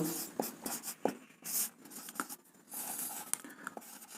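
Pen writing on paper during a trigonometry lesson, quiet scratchy strokes with several sharp taps and scrapes in an irregular rhythm, close and faint, no talking.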